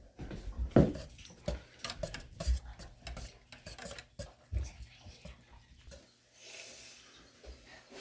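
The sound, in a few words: mixing taco sauce ingredients together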